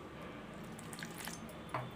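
Liquid chapati dough made from flour, salt, oil and water is beaten smooth in a bowl, giving soft, faint, wet squishing and slapping sounds with a light clink near the end.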